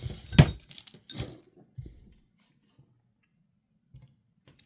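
A dark purple glass pendant with a clear rhinestone is tapped to test it, giving two or three sharp close clinks followed by quieter small taps and near silence.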